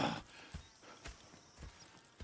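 Hooves clip-clop at an even walking pace in Red Dead Redemption 2, about four soft thuds spaced half a second apart, fairly close.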